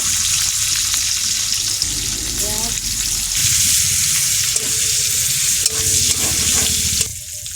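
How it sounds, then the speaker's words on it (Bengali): Garlic fries in oil in a kadai with a loud, steady sizzle and stirring noises. A voice briefly breaks in near the middle, and the hiss drops off abruptly at the end. "কড়াইতে তেল দেব রসুন দেব"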